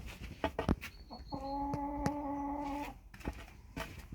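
On a wet early morning, a rooster crows loudly and close by, one long harmonic call, with short clucks and calls from chickens before and after it.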